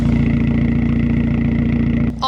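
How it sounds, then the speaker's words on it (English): Straight-piped exhaust on a Nissan Juke NISMO idling right at the tailpipe, a loud steady low burble with even pulsing that cuts off abruptly near the end. "here's what it sounds like idle"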